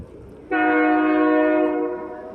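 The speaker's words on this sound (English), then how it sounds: "Damn train." A passing train sounds its horn, a loud sustained harmonic blast that starts abruptly and holds steady for about two seconds before easing off, heard near in a local park or backyard with no talking over it.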